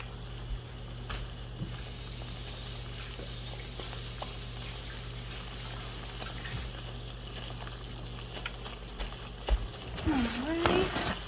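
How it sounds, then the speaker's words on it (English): Tap water runs steadily for a spoon rinse in a home kitchen, a faint, even broadband hiss that goes on throughout, with a voice briefly near the end. "Let me go rinse off my spoon real quick."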